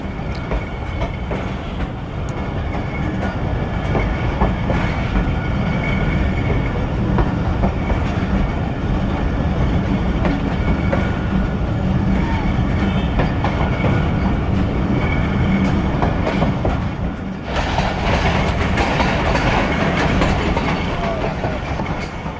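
Thal Express passenger train rolling steadily along the rails between Rawalpindi and Multan, a continuous loud rumble with clickety-clack wheel rhythm throughout, and a brief drop in the noise near the end before it resumes.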